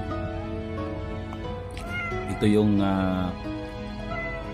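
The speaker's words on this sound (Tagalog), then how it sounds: "Yan, mga pusa ko guys" Pet cats meow a few times at close range, with one louder, drawn-out meow standing out midway, while a person talks over them.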